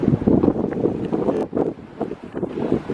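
Wind gusts buffet the microphone in uneven, rumbling surges on a trail in Waterloo, Ontario, with a faint wash of water in the background.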